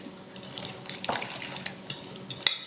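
A utensil mixing egg with coriander, tomato and onion in a bowl: soft irregular clinks and scrapes of metal against the bowl, quiet and close, with a sharper clink near the end.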